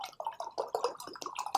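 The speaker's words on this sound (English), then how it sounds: "I'm going to pour a little bit into our cup" Whiskey poured into a cup to mix with Monster energy drink, a short run of close, wet drips and splashes with uneven bursts, with no talking.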